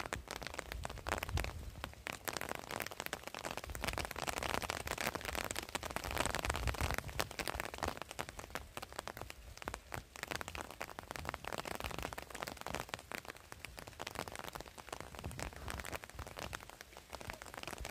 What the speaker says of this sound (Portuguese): Está vindo chuva por toda parte, como vocês podem ver.